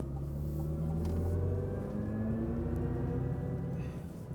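A 2024 Chevy Silverado EV RST pickup accelerates hard, a steady low electric-drive hum and road rumble that swells and holds for several seconds, heard from inside the cabin.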